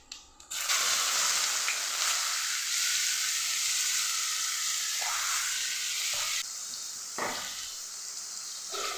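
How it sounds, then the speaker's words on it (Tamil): Onions tipped into hot oil with crackled cumin and fennel seeds in a pan for mushroom gravy give a loud, steady, close sizzle, with occasional stirring scrapes and no voices. "ரெண்டுமே பொறிஞ்சிருச்சு இப்போ வெங்காயம் போட்டுக்கலாம்"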